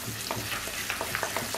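Ground spices and salt being sautéed in a pan for a Bengali tangra fish and potato curry, giving a steady sizzle broken by repeated scraping strokes of a stirring spoon, close and moderately loud with no talking.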